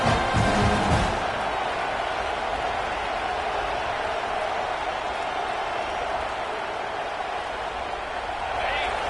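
A loud, dense stadium crowd in a college football video game roars steadily throughout, a constant wash of noise with no pauses.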